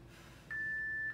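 A workout interval timer for a low-impact Tabata cardio core session gives a single clean, steady electronic beep lasting about half a second over quiet room noise.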